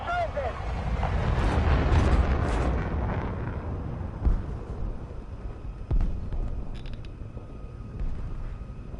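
An armored tank's turret explodes during a tank battle in War Thunder: heavy low rumbling booms, loudest early then fading, with sharper blasts landing later over a steady engine drone.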